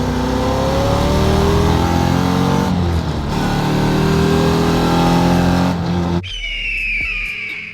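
An LS V8-swapped 1987 Mazda RX-7 FC drift car accelerates hard at high throttle, its engine note climbing loud and close through the gears before cutting off near the end.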